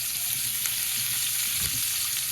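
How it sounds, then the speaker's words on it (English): Spinach and collard greens mixed together sautéing in a pan, a steady close sizzle and frying hiss running throughout with a few soft stirring bumps. "my daughter is gonna saute the vegetables"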